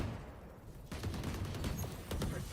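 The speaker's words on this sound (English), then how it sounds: "Swarm grenade out." A swarm grenade goes off in a ranked shooter match: a sudden burst of rapid popping detonations after a quiet moment, crackling on in a dense flurry of small blasts, fairly close.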